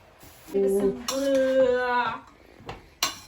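A metal spoon stirring a Turkish bean stew in a pot, clinking and scraping with a short ringing metallic tone in the middle and a sharp knock at the end, close and without talking.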